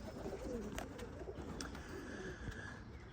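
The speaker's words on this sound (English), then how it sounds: "she'll probably be kept as a trainer pigeon" Pigeon cooing in a loft of young training pigeons, soft repeated coos under light rustling and faint chirps, close by with no talk.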